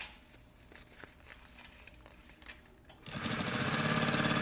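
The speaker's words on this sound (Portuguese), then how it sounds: "E a gente só vai fazer uma costurinha para eu unir isso daqui" Sewing machine stitching puffer backpack material, starting after a quiet moment of handling and running in a fast, even, rhythmic whir close by.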